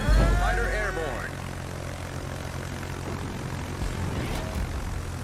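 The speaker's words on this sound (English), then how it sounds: "Three torpedo planes" Propeller engines of torpedo planes drone in the World of Warships naval game, swelling loudly at first and then settling into a steady background hum beneath a voice.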